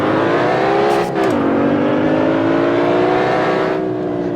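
A BMW 520i engine in the driving game Assetto Corsa runs loud and steady with a brief dip and gear change, then climbs gradually in pitch as it accelerates.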